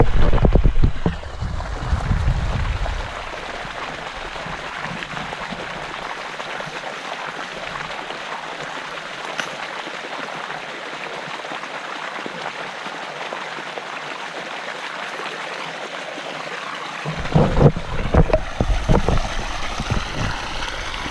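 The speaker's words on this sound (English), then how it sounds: "I turned that valve on and just dumped the water out the other side of the valve" Irrigation water pours steadily out of an opened valve on a farm drip system, a continuous broad rushing splash that holds for most of the stretch, with louder gurgling bursts and rumble at the start and near the end.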